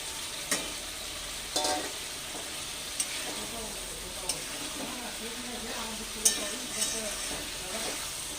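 Fried potatoes and eggplant being stirred in a pan of sizzling oil, a low steady frying hiss broken by a handful of sharp spoon taps against the pan at irregular intervals.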